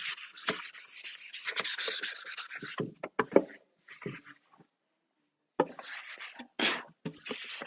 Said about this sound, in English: I will actually sand